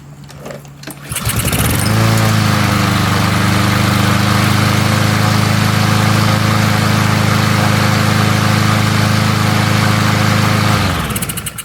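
A push lawn mower engine, running with its air filter removed, catches after a brief start and then runs at a loud, steady drone close by for about ten seconds before cutting off near the end, with no voices.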